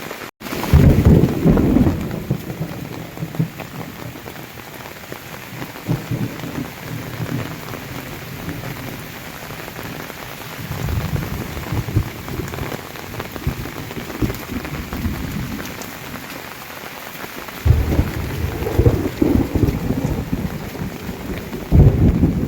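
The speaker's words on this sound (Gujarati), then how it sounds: "વરસાદના કડાકા ને ભડાકા" Heavy, steady rain pours down in a prolonged downpour, with deep rumbling thunder rolling in several loud bursts at the start, middle and end.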